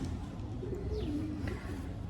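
Soft, low pigeon cooing murmurs through steady background noise, a few gentle coos running together without any talking.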